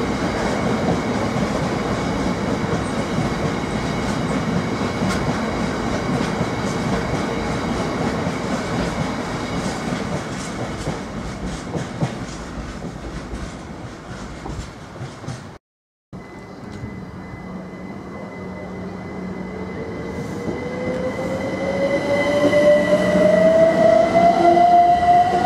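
A train runs through Ely Station with a sustained rumble and rail noise, broken by a sudden brief drop, then a rising tonal whine and squeal as it carries on at close range.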